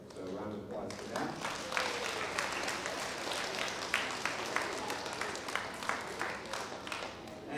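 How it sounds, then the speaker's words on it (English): An audience at a school beginner band concert claps and applauds steadily for several seconds, a dense wash of hand claps filling the room. "So a round of applause for that."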